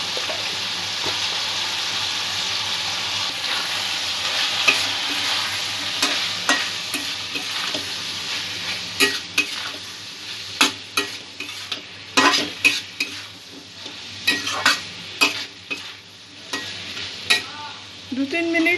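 Chickpeas fry in a pan with cumin and chili powder while being stirred: a continuous close sizzle with scraping strokes that grow quicker and louder in the second half, without speech.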